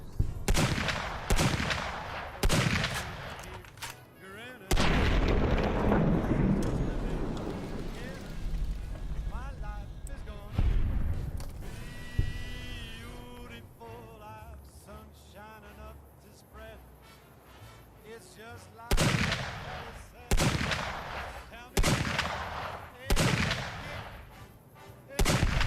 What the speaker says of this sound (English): Love this gun so much. It's the gold-plated Magnum rifle.